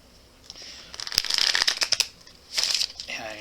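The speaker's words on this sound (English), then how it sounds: "And I'm going to do one more shuffle" A deck of cards being shuffled close by, with rapid crisp riffling flutters in two bursts, the first longer with sharp snapping ticks, the second shorter, and a brief voice at the end.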